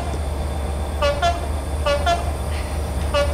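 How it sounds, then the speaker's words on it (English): A train in the Train Simulator 2013 game, set around Didcot Yard, rumbles past over a steady low drone while its horn sounds in several short paired toots, loud and fairly close. "there is a train approaching"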